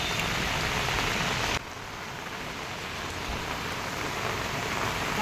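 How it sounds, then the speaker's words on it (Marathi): Heavy monsoon rain pours steadily in Khed, Ratnagiri, a dense, loud, continuous hiss that briefly drops in level then carries on unbroken, with no voices. "आत्ता पाऊस खूप मोठा आहे"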